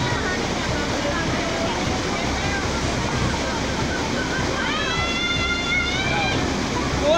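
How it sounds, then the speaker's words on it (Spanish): Floodwater of the swollen Cuaba river rushes in a steady, loud roar that fills the whole scene, with a few faint shouts riding above the torrent near the end. "Así es el río, mire."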